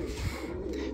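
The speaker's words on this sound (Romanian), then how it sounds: "porumbei de ăștia mai micuți, să zic." Small pigeons coo in an aviary under construction, a soft, low, rolling call heard up close against a steady background hum, with no voices.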